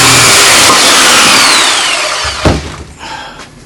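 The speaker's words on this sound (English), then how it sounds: "much better with a much bigger saw" A big power saw cuts through heavy ash hardwood, giving a loud, close, steady roar for about two seconds before winding down, with a short thump near the end.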